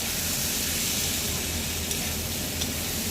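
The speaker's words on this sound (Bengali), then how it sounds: "আলুগুলো ভাজা হয়ে গেছে" Potatoes fry in spices in a pan while a ghugni dish is cooked, giving an even, close hissing sizzle that holds steady throughout with no talking.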